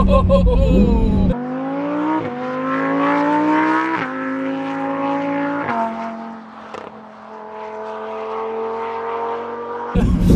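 A 2023 Lamborghini Huracán Performante accelerates hard on a straight, its loud, close engine climbing through gears in rising wails with sharp dips at each quick upshift, and an exclamation at the start.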